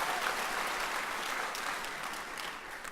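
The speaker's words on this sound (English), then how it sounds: "Mr. Ashraf Tamarasheri, who gets a lot of applause, I hear, in this audience." An audience at the MESCON 2018 alumni conference gives a steady, sustained round of applause, a dense wash of clapping from many hands running throughout.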